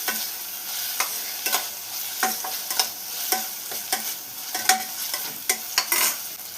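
Chopped tomato and onion stirred in a frying pan for Kerala parippu dal curry, a soft continuous sizzle broken by frequent sharp scraping clicks of the spoon against the pan, close and alone with no talk.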